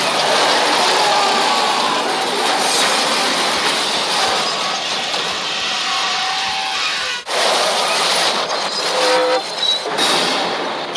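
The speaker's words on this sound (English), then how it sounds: "He doesn't realize there's a freight train approaching" A freight train bears down on a semi-truck at a crossing, a loud, continuous rumble of wheels and rail noise with hints of horn and squealing steel, holding steady before briefly dipping and surging again.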